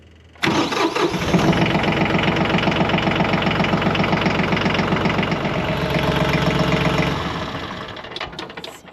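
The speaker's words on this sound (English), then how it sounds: "Now I'm going to start the tractor back up." A Bad Boy 4025H tractor engine cranks and catches after a 50-hour oil change, then settles into a loud, steady idle that runs close by and eases slightly toward the end.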